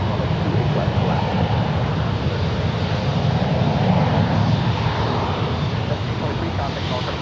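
An airliner takes off at San Francisco International Airport, its jet engines a loud, steady roar that fills the whole clip, with no let-up and no break in the noise.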